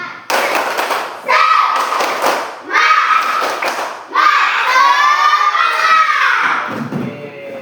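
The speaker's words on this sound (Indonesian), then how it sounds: "Tepuk semangat." Schoolchildren in a classroom perform a rhythmic spirit clap, bursts of clapping in a steady pattern mixed with loud chanting young voices, repeated in several short rounds.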